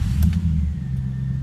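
A Jaguar XKR engine turns over and settles into a steady low idle, a close, even rumble with a brief starter burst at the start and no voices.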